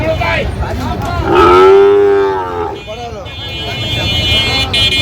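Sahiwal cattle at a Comilla livestock market, with a long, loud moo carrying over the crowd noise and chatter of the market around it.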